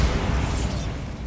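A short, dense explosive rumble from a Bombarda spell in the Hogwarts Legacy video game, loud and broadband with no talk over it.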